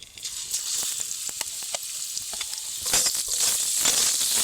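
Marinated chicken hits hot white oil in a wok and sizzles steadily and loudly, with crackling pops scattered through the frying and the sizzle swelling toward the end.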